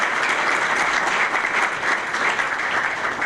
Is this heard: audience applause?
yes